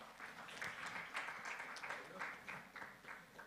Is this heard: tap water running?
no